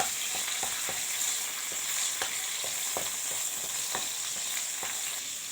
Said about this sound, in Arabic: هجيب معلقه زيت ذره، وهنزل بالظبط بفص ثوم